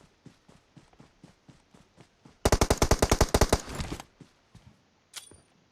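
Uzi submachine gun in PUBG Mobile firing one rapid, loud burst of roughly a dozen shots, framed by soft rhythmic footsteps before and after and a brief sharp clink near the end.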